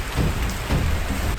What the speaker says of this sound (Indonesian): terus kemudian ternyata turun hujan